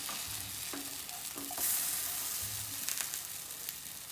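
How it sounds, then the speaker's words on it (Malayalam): An apple pancake sizzles in a pan just after being flipped, with a steady frying hiss broken by a few soft scraping and stirring knocks, close and moderately loud with no talking. "പാൻ കേക്ക് ഒന്ന് തിരിച്ചിട്ട് കൊടുക്കണേ"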